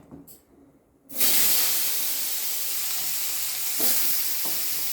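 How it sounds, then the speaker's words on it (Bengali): Salted, turmeric-coated ridge gourd pieces drop into a little hot oil in a wok and sizzle, a loud steady hiss that begins abruptly after a quiet moment and keeps going. "এগুলো অল্প সাঁতলে দেবো, বেশি না"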